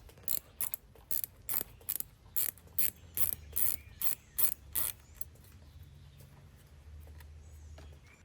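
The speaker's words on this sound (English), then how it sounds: "Let's go ahead and get this bolt out and then we'll work on the other side" A hand ratchet clicks in a quick, steady series of about a dozen sharp ticks, close and clear, then falls quiet, while a valve cover bolt is worked loose on a 1999 Yamaha Venture motorcycle.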